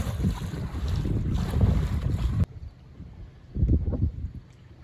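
A handmade houseboat travels down a river, giving steady broadband wind and water rush with low engine-like rumble, loudest in the first half and then quieter with a brief swell near the end, no speech.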